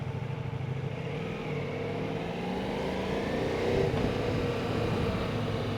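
A Ducati Multistrada V4S motorcycle engine runs steadily with a low, rough drone, swelling slightly as it revs near the four-second mark, then holding a constant loud rumble throughout.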